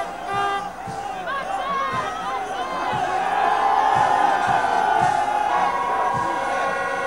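Thousands of football fans cheer in a sustained roar at a 1965 Werder Bremen championship welcome, the crowd noise swelling and staying loud with scattered shouts.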